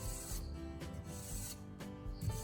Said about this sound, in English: Begin sliding the blade forward and backward through the channel